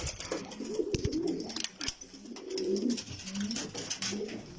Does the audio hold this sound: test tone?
no